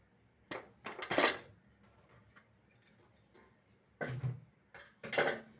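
Metallic clanks and rattles as a pressure cooker of chicken biryani is opened, several sharp clatters of lid and pot in short bursts separated by quiet pauses.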